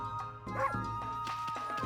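A dog in the Okami HD video game gives several short, tonal yips and bow-wows in two bursts over a steady musical background, close and clear.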